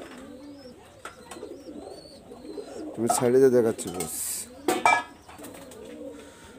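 A young red-eyed Pakistani high-flyer Kamagar pigeon coos softly in short bursts, with a louder stretch in the middle, while a person talks nearby.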